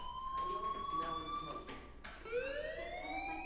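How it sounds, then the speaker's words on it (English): A fire alarm rings in the Life Is Strange video game, a wailing electronic siren whose pitch slides and sweeps upward, steady and loud over a background of game sound and faint voices. "you hear that fire alarm? That means you should be outside."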